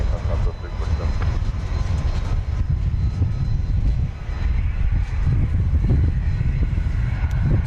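A Southwest Boeing 737-700 taking off from runway 31 right at Dallas Love Field, a loud, broad, continuous low engine roar with wind rumble that holds steady throughout.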